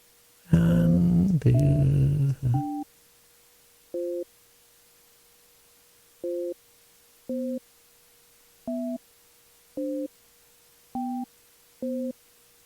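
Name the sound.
phone signal from failed Skype call on computer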